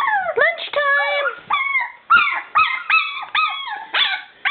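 One-month-old Chow Chow puppies yelp and whimper in a string of short, high, rising cries with brief pauses between, close and fairly loud.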